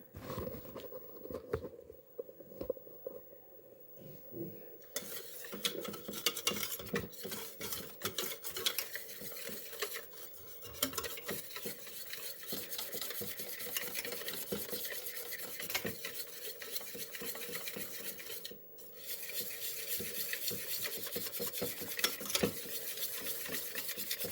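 A spoon stirs homemade wild mushroom soup with butter and milk in a pot, a steady rapid swishing and clinking against the metal that continues throughout, with a brief pause near the end.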